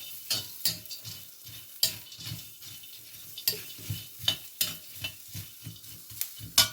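Onions and spices frying in a pan for chilli peanut chicken, with a steady sizzle under repeated scraping strokes of a utensil stirring them, close and rhythmic, roughly one stroke every half second.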